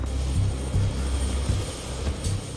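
A helicopter climbs toward launch height, its engine droning steadily with a low, rhythmic rotor thump pulsing through it and no talk over the top.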